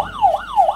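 A quiz buzzer gives a short electronic siren that wails up and down twice in quick succession, loud and close, imitating an emergency siren.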